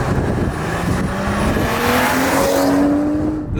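A manual, rear-wheel-drive BMW M135i clubsport car heard from inside after a downshift, its engine revving and climbing steadily in pitch, loud and close throughout with no talking.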